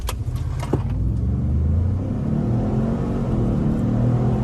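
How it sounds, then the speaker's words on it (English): A 375-horsepower turbocharged 2019 Ford Expedition engine accelerates hard from 0 to 60 with a steady rising roar and turbo whir, loud and continuous from inside the cabin, with no talking. "You can hear the turbos"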